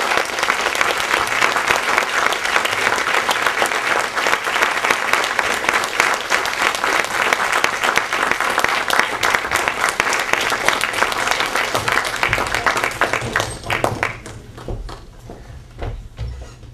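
An audience at a 2010 teaching awards ceremony claps loudly and steadily for about fourteen seconds, then the clapping thins out and fades into quieter room noise.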